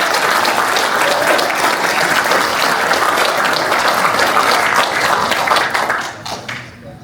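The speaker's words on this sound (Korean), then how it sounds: "우리 박수로 영접하겠습니다." A church congregation at a national-security prayer rally applauds to welcome a pastor to the pulpit, dense and loud clapping that runs steadily for about six seconds before tapering off.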